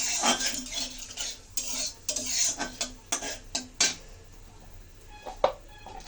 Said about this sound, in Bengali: ফোড়নটা ভালো করে ভেজে নিয়েছি, এখন দিয়ে দিচ্ছি তরকারি।